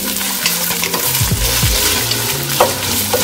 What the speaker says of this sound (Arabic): الرز إلى الزيت مثل ما تشوفون، يتقلى شوية الرز